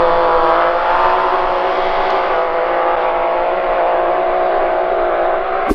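A Can-Am Maverick X3 side-by-side engine revs loud and holds high, droning through a throaty aftermarket exhaust for several seconds before cutting off abruptly.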